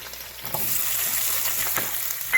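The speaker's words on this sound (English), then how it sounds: "After you saute the ginger and garlic a little bit, add the capsicum and onion" Chopped capsicum and onion sizzle loudly in a hot pan for chicken Manchurian, a close, dense frying crackle with a few stirring clicks and no voices.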